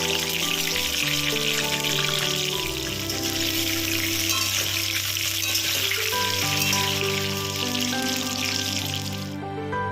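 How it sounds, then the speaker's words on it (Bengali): Pointed gourds (potol) fry in hot mustard oil in a wok, giving a steady, loud, dense sizzle that runs unbroken throughout, with no talk. "এইবার পটলগুলো তেল গরম করে কড়াইতে সর্ষের তেল গরম করে পটলগুলো এক এক করে ছেড়ে দিলাম। দিয়ে পটলগুলোকে ভালো করে ভেজে নেব।"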